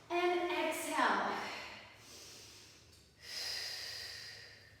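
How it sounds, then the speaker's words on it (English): Deep, audible breathing during a TRX suspension trainer workout: a long, loud inhale or snort-like intake followed by slower exhales, close and unaccompanied by speech. "Deep breaths every time."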